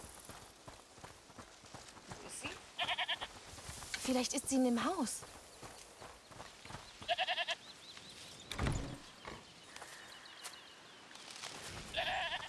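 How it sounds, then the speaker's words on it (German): A goat bleats several times at intervals amid footsteps and ambience in the video game A Plague Tale: Requiem, while a person talks over it. "Hört mal, ist das die Ziege, die er meinte?"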